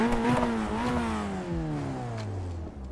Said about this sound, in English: Let's go ahead and start the engine up.